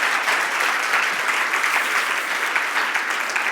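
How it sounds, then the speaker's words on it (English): A seated audience at a business talk applauds steadily and loudly for speakers as they take their seats on stage, a dense, even wash of clapping with no break. "would you please give them a huge rapturous applause for telling their story"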